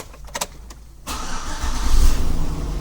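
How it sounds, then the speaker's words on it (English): A few clicks of a key turning, then a 2003–2007 Chevrolet/GMC/Cadillac engine cranks and catches, rising into a steady, loud idle rumble. "We're going to start the engine with the key."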